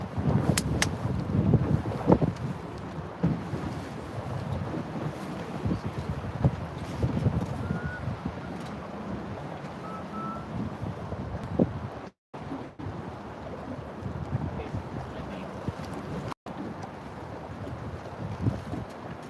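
Gusty wind buffets a boat out flounder fishing on the water in North Carolina, a steady low rumble that runs throughout with no talk, broken by two brief dropouts.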